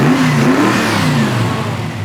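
A 1967 Chevrolet Chevelle Super Sport with its original V8 revs up close and loud, the engine note climbing and falling in a steady sustained roar with no talk over it.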